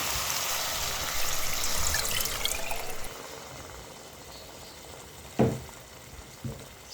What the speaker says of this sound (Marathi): अर्धा ग्लास पाणी घालू आपण।